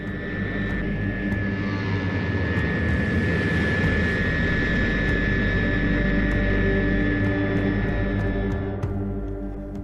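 Bomber aircraft droning overhead in a steady loud engine roar that holds for several seconds, then fades as it flies away.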